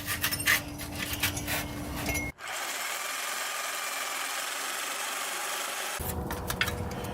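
Rust being scrubbed off a metal exhaust pipe on a cheap Volkswagen Jetta, a steady close abrasive rasping that runs in bursts with a long continuous stretch in the middle.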